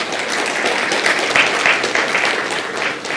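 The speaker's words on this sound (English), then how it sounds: "Can we give a big round of applause for India?" A large audience at the World Education Congress 2015 applauds for India, producing a dense, loud, continuous wash of clapping from many hands that holds steady throughout.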